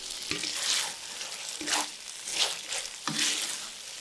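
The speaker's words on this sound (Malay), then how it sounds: "Kentang goreng masuk juga." Fried potatoes stirred into sambal sardine in a hot pan give steady sizzling, with three or four louder bursts of frying hiss as the pieces are turned, close and moderately quiet.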